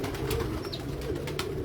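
Pigeons kept by a hobbyist fancier coo in a low, continuous murmur that runs the whole moment at an even, moderate level, with no other sounds standing out.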